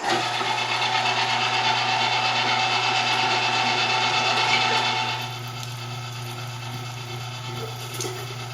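Wild turkey meat being ground coarsely in a meat grinder: a loud, steady motor whir with a grinding rasp that runs for about five seconds, then drops to a quieter hum as the load eases.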